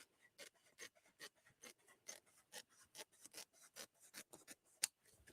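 Scissors cut fabric for a Crown Royal bag, a steady run of crisp snips in a regular rhythm, close and fairly quiet with no talking.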